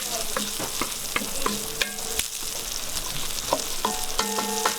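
Onions, celery and carrots simmer in wine in a pan, giving a constant loud sizzle and bubble, broken by regular clicks and taps of a utensil stirring against the pan.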